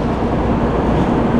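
A Shinkansen bullet train arrives at a Japanese station, a steady, fairly loud rumble and hum of the train rolling in, with no voices.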